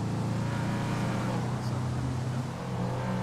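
A car engine in a driving game drones steadily close by, a constant motor hum with slight pitch shifts, while a voice talks over it.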